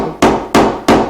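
Three evenly spaced, firm taps of a dead blow hammer seating a fret into a Spanish guitar fretboard, close and clear with a brief woody ring after each.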